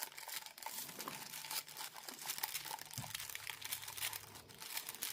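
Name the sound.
paper being torn off along an edge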